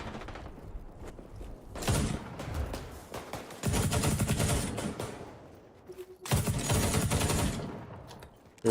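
Bursts of automatic gunfire from guns in an online shooter video game, rapid rattling volleys of a few seconds each separated by brief lulls with quieter shots, fairly loud and close with no talk.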